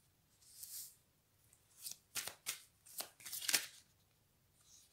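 Oracle cards are shuffled and drawn by hand: several quick, soft riffling bursts and papery slaps in an irregular rhythm, close and fairly quiet, separated by brief pauses.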